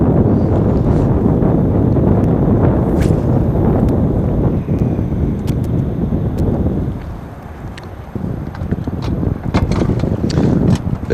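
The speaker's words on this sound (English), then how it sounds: "Feels like we got a pretty good west wind." Strong west wind gusting over open water at a lake dam, a loud continuous broadband roar buffeting the microphone that eases briefly before surging back, with faint lapping water beneath.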